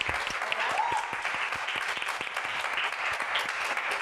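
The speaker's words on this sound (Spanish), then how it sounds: "un aplauso a Adrián Pulido" A studio audience at a talk show applauds for a guest, a few seconds of steady, moderately loud clapping with distinct individual claps audible in the mix.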